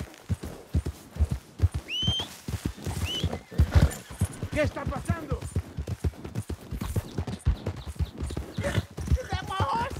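Horse hooves clip-clop rhythmically with a couple of neighs in Red Dead Redemption 2, while a person speaks briefly over the galloping and other game sounds.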